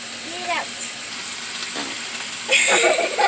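Chorizo and meat sizzle in a pan with a steady hiss, with a louder burst of crackling near the end as the food is stirred or moved; a voice is heard briefly.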